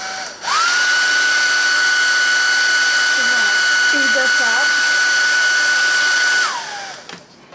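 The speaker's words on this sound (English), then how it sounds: "I'm going to whip out my little hair dryer." A small hair dryer blowing steadily on wet paint on a snowman-head craft project, a loud continuous whine of about six seconds with a short spin-up and wind-down, while a person speaks briefly over it.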